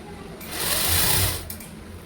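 A sewing machine stitching a straight side seam on red blouse fabric, a fast, close mechanical whir that swells in the middle and then eases off, heard alone.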